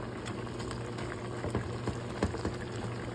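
Beef curry bubbling in a pot, a soft continuous boil with small pops and gurgles, close but quiet, no voices.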